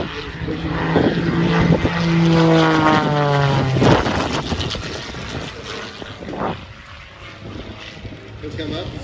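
Aerobatic propeller airplane performing at the EAA AirVenture Oshkosh airshow, a loud droning engine rising and falling in pitch with a sweeping Doppler shift as it passes, then fading to a more distant hum, with announcer speech over it.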